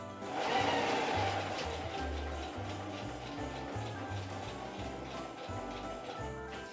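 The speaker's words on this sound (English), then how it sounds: "I'm going to release it and sew the straight line all the way down" A Singer sewing machine stitches a straight seam, its needle pulsing in a steady low rhythm with brief pauses, moderately close and continuous beneath a faint background hum.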